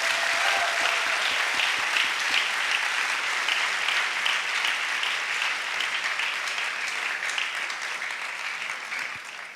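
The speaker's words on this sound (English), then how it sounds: "Please give all of our partners and sponsors one big last round of applause." Sustained applause for the partners and sponsors at a hackathon opening ceremony, a large audience clapping densely and steadily for nearly ten seconds, tapering slightly toward the end.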